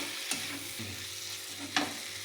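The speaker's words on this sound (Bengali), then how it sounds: "এবার দিয়ে দেবো কিশমিশ কুচানো, কাজু বাদাম কুচানো, দিয়ে ভালো করে মশলাগুলোকে সব কিছু একসাথে মিক্স করে দেব" Steady frying sizzle as chopped raisins and cashews are stirred into spices in a pan for a vegetarian potol dorma with paneer, with a couple of brief scraping strokes, close and moderate, no talking.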